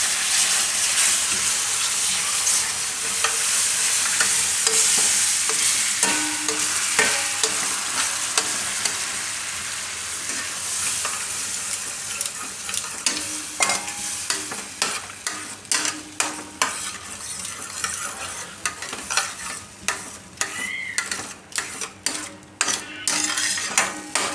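Bottle gourd kofta gravy stirred in a pan as milk is added, a loud sizzle settling into a softer bubbling, with repeated spoon clinks and scrapes against the metal pot growing frequent toward the end.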